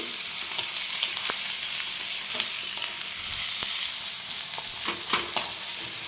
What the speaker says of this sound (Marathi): चांगला एकदम फ्राय करून घ्यायचा कांदा